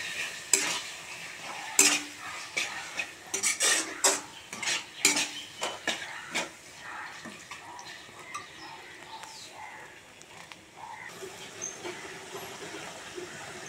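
Minced chicken is stirred and fried in spiced masala in a pan. A close run of sharp scraping spoon strokes comes first, then eases into a quieter, steady sizzle.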